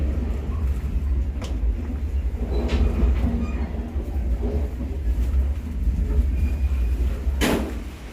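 A crowded local commuter train out of Cicalengka pulls away from a station with a loud, steady rumble of wheels and carriage, brief clanks and a sharp hiss or door burst near the end, no talk.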